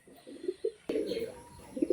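A white female pigeon coos in short, soft repeated phrases close by, with a louder burst midway and quiet voices in the background.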